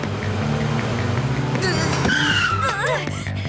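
Customized car in a cartoon revving hard and accelerating, then a loud tire squeal and skid with wavering screech over a steady engine drone, beneath voices.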